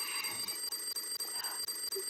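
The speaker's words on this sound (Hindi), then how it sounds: "अलार्म बज रहा है।" Alarm clock ringing in a bedroom, a steady electronic beeping in rapid regular pulses, fairly loud and close, with no talk over it.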